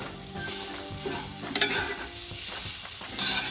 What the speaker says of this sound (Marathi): अजून एक 2 ते 3 मिनिट आपल्याला अगदी व्यवस्थित असं परतून घ्यायचंय